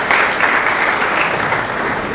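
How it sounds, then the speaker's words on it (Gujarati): A crowd at a senior citizens' family gathering in Dahisar East gives welcomed guests a dense, loud, unbroken burst of applause lasting a couple of seconds. "આ બધા માટે એકવાર જોરદાર તાળી હોવી જોઈએ"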